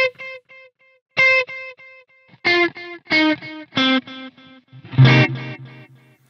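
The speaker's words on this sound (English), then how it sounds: "I'm just going to play a couple staccato notes just so you could hear it" Electric guitar plays short staccato notes through a delay plugin, each clipped attack followed by quieter repeating echoes that trail off, in a sparse rhythm of separate stabs over about six seconds, no talking.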